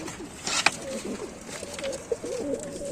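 Pigeons coo softly in repeated low, throaty phrases from a loft of male racing pigeons, with a few wing flutters and light background noise between calls.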